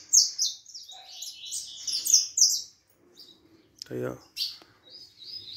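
Saffron finch (canário-da-terra) in training for song contests, singing bright, rapid chirping phrases close by, pausing as someone speaks briefly, then resuming with a few shorter trills.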